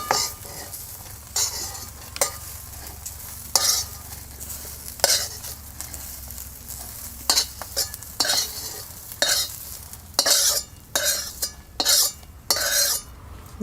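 Cluster beans (gavar) are stir-fried and roasted in oil until spotted, with a steady sizzle and a metal spoon scraping and clinking against the pan in irregular close strokes, no talk.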